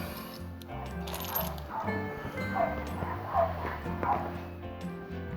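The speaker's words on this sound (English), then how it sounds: "I got somebody's dog in the background." A dog barks faintly in the distance behind indoor house-renovation light-fixture wiring work, with a few scattered yips over a low background hum while someone talks.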